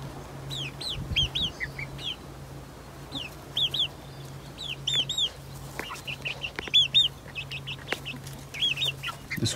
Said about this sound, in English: Buff Orpington there in the middle. 7 chicks.